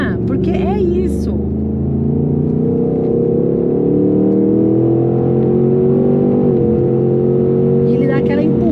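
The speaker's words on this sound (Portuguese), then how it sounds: "E esse escapamento e esse barulho dentro da cabine é maravilhoso, é fantástico" Ford Mustang Mach 1 exhaust roar from inside the cabin on a race track: a loud, deep, continuous engine drone that climbs slowly in pitch, with a voice speaking briefly near the start and end.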